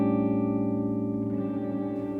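An electric guitar pad runs through a Mood micro looper, a steady wash of sustained, effected chord tones with a shimmering, reverberant texture that holds at an even level for about two seconds, with no voices.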